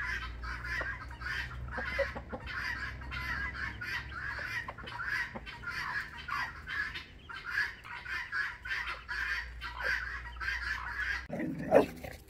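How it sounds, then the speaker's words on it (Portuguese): Guinea fowl and chickens call in a busy, continuous chorus of rapid repeated cackles and clucks, fairly close, with a low steady hum underneath and a brief louder knock near the end. "Angolinhas e galinhas."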